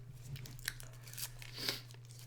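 Crunching on hard cough drops, a few crisp bites at irregular intervals over a steady low hum.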